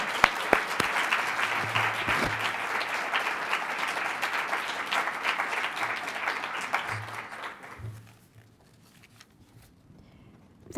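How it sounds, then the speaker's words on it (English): An audience at a Boston University lecture applauds to welcome an ambassador as speaker, a dense, steady clapping that fades out after about eight seconds into near quiet. "And now you can applaud, and please join me in welcoming Ambassador Tubiana to Boston University."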